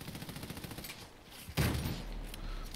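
Gunfire in the video game Army of Two: The Devil's Cartel, with a rapid pulsing burst of shots followed by a loud, dense crack and a sustained roar of fire.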